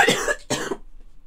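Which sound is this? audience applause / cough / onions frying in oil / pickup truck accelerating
cough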